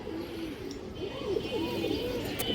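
Ring-eyed pigeons coo softly in a loft, a few low wavering rolling calls close by over a faint background hum.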